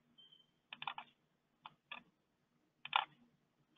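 A handful of sharp, close computer clicks and key taps while saving a NetSuite financial report, coming in small bursts separated by short silences, with no speech.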